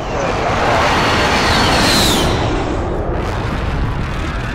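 A bomb explosion in a video game, a loud sustained roar of broadband rumble that swells and holds for several seconds before easing slightly, dense and close, with no clear speech over it.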